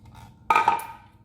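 Frozen chicken broth cubes and half a cup of water drop into a pan for zucchini rolled chicken enchiladas, giving one sudden close clatter and splash that tails off within a second.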